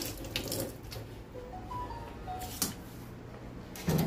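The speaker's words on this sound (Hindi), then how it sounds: "दो टमाटर लेते हैं, पहले धुल लेते हैं" Two tomatoes are washed under a running kitchen tap for a cutlet recipe, with soft splashing and gurgling water that comes and goes in short bursts, quiet and close.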